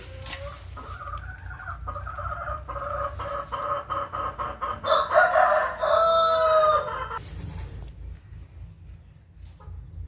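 A brooding hen settled on eggs on a sheep farm clucks in a steady stream of close, nasal calls, with other chickens calling and a rooster crowing nearby over a low background hum.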